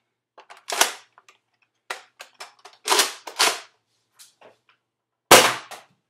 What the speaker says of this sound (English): So I'm just gonna fire test this one more time just to make sure it still works.